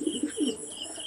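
Pigeons coo softly at close range in a brief series of low, throaty notes, with a faint high hum in the background.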